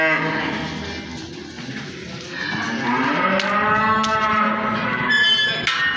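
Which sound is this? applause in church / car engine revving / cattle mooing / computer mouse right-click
cattle mooing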